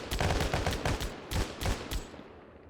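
Rapid gunfire in the military game ArmA 3 crackles in a quick series of about a dozen evenly spaced shots that thin out toward the end, moderately loud with no voices.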